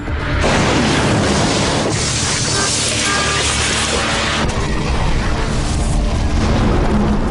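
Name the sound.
explosion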